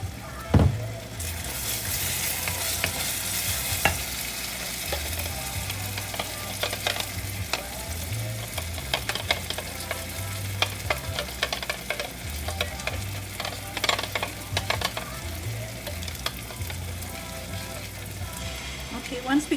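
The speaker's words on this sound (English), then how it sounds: "we're going to give it a nice saute here" Masala paste and oil for a pepper chicken masala sauté in a pan, a continuous close sizzle with frequent spoon scrapes and knocks throughout and no talk.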